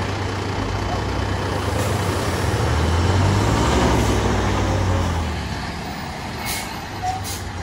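Fire truck pulling up at a house fire, a loud low diesel engine rumble with a hiss of air brakes, the engine swelling then easing off as it settles.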